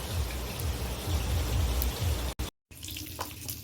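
Heavy rain pouring down in a dense, steady hiss that briefly cuts out, then returns more faintly.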